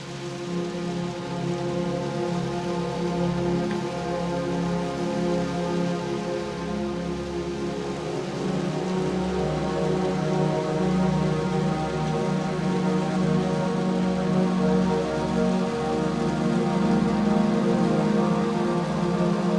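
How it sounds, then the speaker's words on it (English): Mountain waterfall cascade near Silverton, Colorado, a steady rushing, splashing wash of water with a low rumble, constant and fairly close, with no voices. "I noticed a cascade in the distance and decided to check it out"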